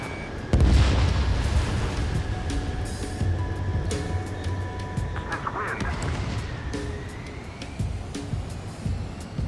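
Missile launches and explosions in the Ace Combat 7 jet combat game: a loud initial blast followed by rumbling booms, whooshes and warning tones layered over continuous engine noise, with a voice briefly calling out.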